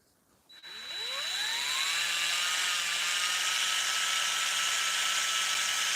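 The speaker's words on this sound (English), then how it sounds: "We're almost done drilling" Steady, loud whine of a power drill boring into metal, rising in pitch as it spins up, then holding a sustained high tone with bright metallic overtones, alone without talk.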